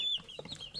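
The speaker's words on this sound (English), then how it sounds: "So she's supposed to be a white cochin." A white Cochin chicken gives a short burst of close, clear clucking lasting under a second, with no talk over it.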